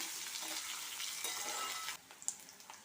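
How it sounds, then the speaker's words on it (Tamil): Onion and green chilies sauté in a pan with a soft, steady sizzle that quiets near the end, broken by a sharp clink and a couple of small stirring sounds, heard alone. "பச்சை மிளகாய் ஒரு நிமிஷம் போல் நல்லா வதங்கி வரட்டும்"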